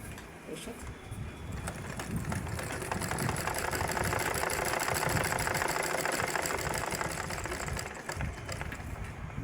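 A domestic sewing machine runs steadily while stitching fabric, a fast rhythmic mechanical chatter that continues for the whole stretch with little change in pace.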